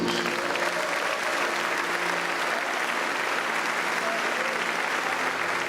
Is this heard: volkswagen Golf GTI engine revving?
no